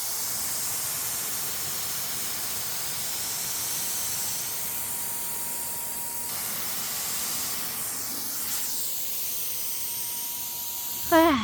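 A paint sprayer hisses continuously while coating an Ethan Allen Classic Manor table, a steady close spray with brief pauses and a short clunk at the end.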